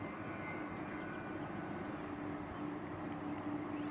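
Full-power drone of an E-flite T-28B Trojan RC airplane flying in the evening, a steady, faint buzzing engine whine with a thin tonal hum, continuous and distant, no talk.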